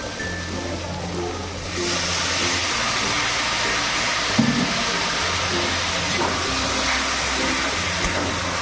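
Water splashes into a pan of frying spice paste for ghugni, setting off a sudden loud, steady sizzling hiss that holds for several seconds, with a brief clatter partway through.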